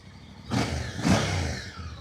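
A Voge DS800X Rally adventure motorcycle's exhaust gives two quick, throaty blips of revving, close and moderately loud, over a low idle.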